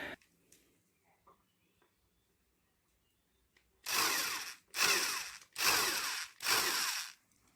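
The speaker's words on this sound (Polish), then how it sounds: "A najpierw mniejszym wiertełkiem, potem troszkę większym." A cordless drill bores holes for a front fender extension on a Junak RX One motorcycle, four loud close bursts of whirring, each about a second long with short pauses between, after a quiet stretch of faint handling noises.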